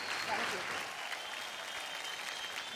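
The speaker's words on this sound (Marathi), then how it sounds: "तेव्हा जोरदार टाळ्या होऊन जाऊन देत आपल्या ग्रँड मास्टरसाठी" An audience on a television dance show claps steadily for a grand master, with even, moderately loud applause that runs the whole time and no voices.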